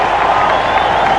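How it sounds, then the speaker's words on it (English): Cricket crowd at a match roaring and applauding in a dense, loud, continuous wash of cheers and clapping, with a faint voice mixed in. "huge cheer from the crowd"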